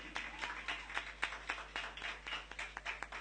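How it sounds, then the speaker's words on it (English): A small audience at a tribute event claps in quick, uneven bursts, quiet and somewhat distant, with individual hand claps distinguishable rather than a full roar. "Give them a big round of applause, please."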